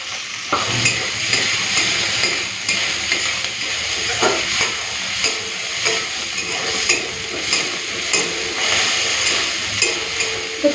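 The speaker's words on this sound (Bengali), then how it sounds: "পেঁয়াজের সাথে চিংড়ি মাছটা ভেজে নিয়েছি" Shrimp frying with onions in a pan, giving a steady close hiss and sizzle throughout, broken by occasional scrapes and clacks of a spatula stirring, with no voices.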